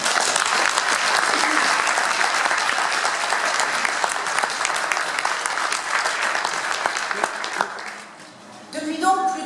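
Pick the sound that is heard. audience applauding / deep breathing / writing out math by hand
audience applauding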